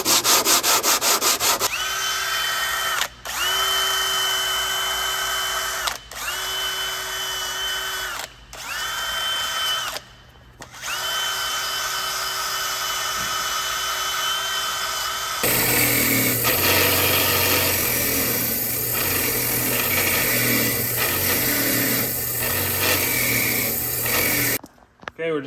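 Power sanding on the front brake rotor discs of a 2010-2014 Subaru Outback 2.4L, a loud steady whirring grind cut by a few short pauses, then shifting into a rougher, scratchier abrasive rasp before stopping.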